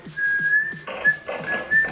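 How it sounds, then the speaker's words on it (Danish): A person whistles a short cheerful tune, clear and close, with a few brief melodic phrases and no talk. "Godt lige, han lige fløjter."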